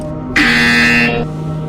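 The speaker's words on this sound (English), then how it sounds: "When you hear the buzzer, turn around and face the server farm behind you." Electronic buzzer in the virtual reality game Portal VR, one loud, harsh, steady tone lasting under a second over a low background hum.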